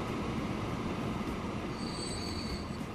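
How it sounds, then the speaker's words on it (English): A freight train rolls along in the Transport Fever video game, heard as steady, loud broadband rumble with faint high wheel squeal near the end, no talk over it. "And there's another freight train."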